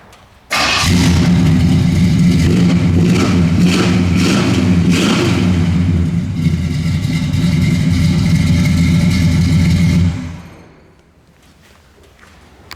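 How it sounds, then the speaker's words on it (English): A 1965 Pontiac LeMans V8 with dual exhaust starts and revs hard, a deep throaty roar sustained for several seconds before cutting off abruptly, loud and close. "Yeah, it's a great sounding engine."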